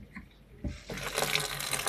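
Tap water running into a bowl at a sink, starting with a soft trickle and swelling after a moment into a steady, loud rush of filling water close by, with no one talking.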